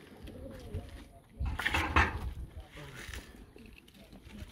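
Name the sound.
racing pigeons cooing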